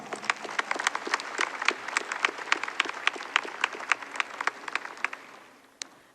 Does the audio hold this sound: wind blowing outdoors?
no